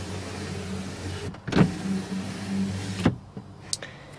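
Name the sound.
Ford F150 power rear window moving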